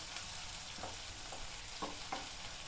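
Chana dal and onions frying in a pan, meant for a bendakaya (okra) fry, make a soft, continuous sizzle with a few light stirring scrapes, faint and without talk.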